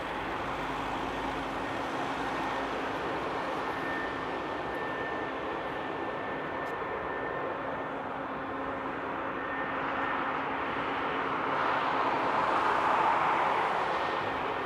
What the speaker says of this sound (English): there's indeed a landing coming in